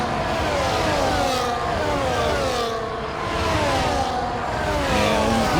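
Formula 1 race cars from F1 24 at the Japanese Grand Prix scream steadily at high revs, engine pitch rising and falling through gear changes in a continuous loud wash with no pauses.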